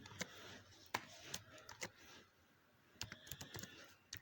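Typing on a computer keyboard, soft and fairly faint, with irregular keystrokes in small bursts separated by a brief pause.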